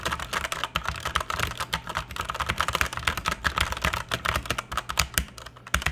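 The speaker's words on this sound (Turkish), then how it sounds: "Şimdi isterseniz bir de Red Switch'in tuşlarının sesini duyuralım." Rapid typing on a Performax Xargon mechanical keyboard with red switches, a dense, continuous stream of close clicks with no talking.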